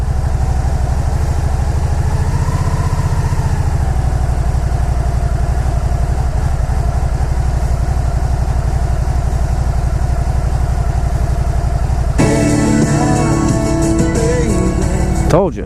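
A Can-Am Spyder ST-S engine runs at a loud, steady, close idle, a constant low rumble that holds throughout, joined near the end by brighter sound over the engine.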